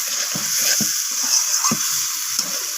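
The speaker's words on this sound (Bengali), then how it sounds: "এবার আমি এখানে দিয়ে দেব সেই সিক্রেট মশলাটা, পোস্ত, কাজু আর গুঁড়ো দুধে। তো এই মশলাটাকেও আমি কষিয়ে নিচ্ছি।" A spice paste of ground poppy seed, cashew and milk powder sizzles in a pan while cooking for a soybean and cauliflower curry. A steady hiss runs throughout, broken by a few soft scraping strokes of stirring.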